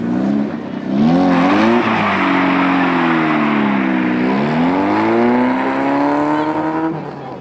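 Ordinary unprepared road cars race on an icy winter circuit during an amateur sprint, engines revving loudly with rising and falling pitch sweeps and tire noise, close and continuous throughout.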